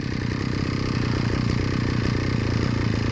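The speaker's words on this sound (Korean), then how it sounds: "이렇게 해서 좀 엔진이 어느 정도 회전이 될 때까지" A brush cutter's small engine idles while warming up, a steady low rough drone with a fine rapid pulsing, close and constant throughout with no speech.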